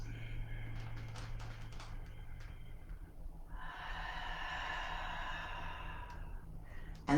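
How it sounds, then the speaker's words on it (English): Slow breaths during a guided breathing exercise, a long audible sigh-like exhale and airy inhale over a low steady background hum, close and unhurried. "Inhale, exhale. Inhale, exhale."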